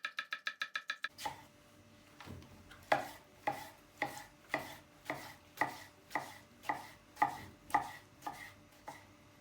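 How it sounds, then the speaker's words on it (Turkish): Steady knife chopping on a board, about a dozen evenly spaced crisp strikes, preceded by a quick burst of rapid lighter taps. "direkt malzeme doğramaya başlıyorum"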